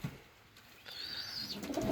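A pair of fantail pigeons cooing, with a soft drawn-out call rising partway through over quiet background rustle.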